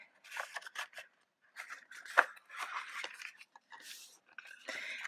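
Scored cardstock for a Cricut-cut paper frame is creased and folded inward along its score lines, making close, crisp crackles and papery rustles in short bursts separated by brief quiet gaps.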